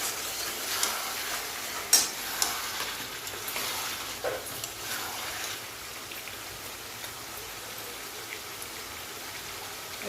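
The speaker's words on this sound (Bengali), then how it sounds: "এবার জিরের গুঁড়ো দিলাম, দিয়ে মশলাটা ভালো করে কষিয়ে নিচ্ছি" Spiced masala with salt and cumin powder is fried and stirred in a pan, giving a soft, steady sizzle with faint scraping stirs and a few light clicks, recorded close and quiet with no talking.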